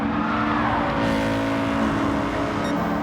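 Race cars from the RXGT video game, among them an Audi and an RCZ Group 4 car, roar continuously with steady engine drone, a busy layered mix of loud motors with no talk.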